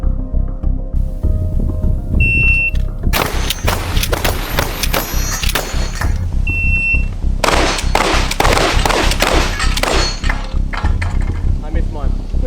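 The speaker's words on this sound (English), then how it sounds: "Shotgun race, outside in, shooter ready, stand by" Rapid bursts of shotgun blasts fired by competing shooters in an outdoor shotgun race, loud and close, in dense clusters with short pauses between volleys, with a brief electronic timer beep before each string.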